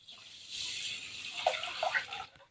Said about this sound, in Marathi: आता आपल्याला याच्यात परत पाणी टाकायचं आहे